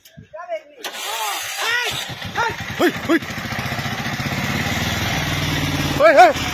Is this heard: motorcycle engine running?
yes